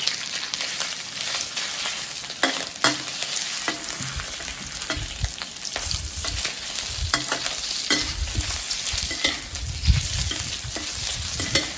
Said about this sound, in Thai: ใส่กุ้งลงไปค่ะ